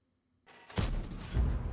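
A single heavy tank cannon blast in World of Tanks booms out and rolls on with a low rumbling tail, loud and close, with no voices.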